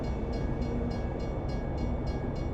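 An Amtrak train passes at a rail crossing in American Truck Simulator, heard as a loud, continuous rumble and roar of rail cars with a faint pulsing rhythm from the wheels.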